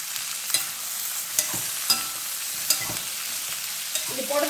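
Native sour tomatoes sizzle and fry in hot oil for a small onion chutney, a steady crackling hiss broken by a few sharp stirring scrapes and taps of a utensil against the pan, close and clear with no voices.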